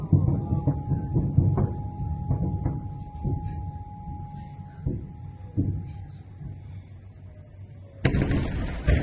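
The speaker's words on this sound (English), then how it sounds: "You're going to hear lots of explosions" Several dull booms and sharp bangs from a drone attack on the Afipsky oil refinery in Krasnodar Oblast go off at intervals over low background rumble, with a steady tone running underneath and a louder burst near the end.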